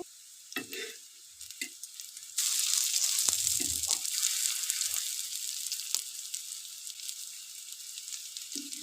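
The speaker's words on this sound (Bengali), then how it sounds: "আরও তিন চার মিনিট তেলে ভালো করে ভেজে নিব" Fish roe fritters frying in oil, quiet handling thumps at first, then a loud, steady close sizzle that rises suddenly and continues with occasional knocks.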